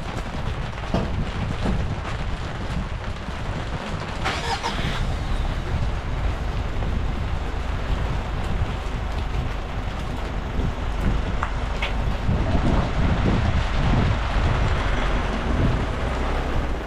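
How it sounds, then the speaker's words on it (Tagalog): Rain drumming on a covered plastic tarp outdoors, a steady dense patter with gusty wind noise, continuous and fairly loud throughout with no voices. "Ayan, pinakover na muna yung lona. At ayun ay ulan."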